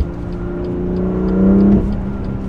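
A BMW M2 Competition engine revs up steadily, pitch climbing to a high peak near its roughly 7,600 rpm redline and then dropping off, loud and close with no talking.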